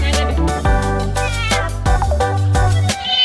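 Stray cat being bathed, meowing loudly and close in a run of drawn-out, wailing cries with brief breaks between them, no talk over it.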